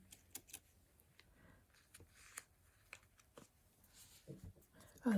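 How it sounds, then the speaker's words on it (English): Soft, irregular crinkling and rustling of paper, close by, with scattered small taps and clicks, and a louder handling noise at the very end. "I love the sound of the paper."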